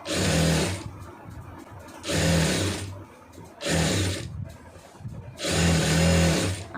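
A sewing machine stitches the seam of a chudidar pant in four loud, whirring bursts of about a second each, with short quiet pauses between runs.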